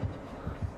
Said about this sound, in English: I'm not liking the heartbeat.